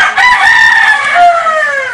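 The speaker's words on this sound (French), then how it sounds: "Le calme du cimetière qui y règne est quelquefois brisé par un furtif cocorico" A rooster crows once in a long, sustained cock-a-doodle-doo, loud and close, with the call sliding downward at the end; no other sounds or voices.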